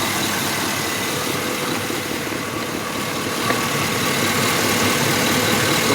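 A pickup truck engine idles steadily with its radiator fan running, a loud continuous broadband rumble and whoosh close by that holds level throughout without talk.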